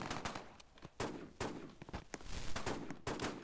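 Rapid volleys of gunfire in Roblox PUBG, a shotgun among them, with sharp repeated blasts at irregular intervals that stay loud and close through the clip, no talking.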